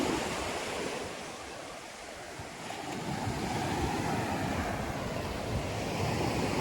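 Gentle surf rolling onto a quiet beach at Chaweng Noi, Koh Samui, a steady broadband wash of waves with light wind noise, continuous and moderately loud without any voices.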